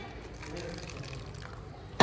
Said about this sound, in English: Pour the Red Bull in.